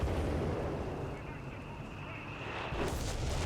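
Bishop artillery barrage in Company of Heroes 3: a dense, sustained rumble of shelling with a fresh burst near the end, heard under a speaking voice.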